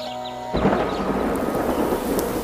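Thunder rolls in loudly with a sudden crash and steady heavy rain during a thunderstorm, a dense continuous roar that stays strong to the end, with no voices.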